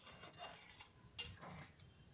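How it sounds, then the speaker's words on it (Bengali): Sago khichdi with vegetables being stirred in a cooking pot, a soft scraping and rubbing of a spoon against the pot with a light clink near the middle, close and fairly quiet. "ভালো করে নেড়ে নেব।"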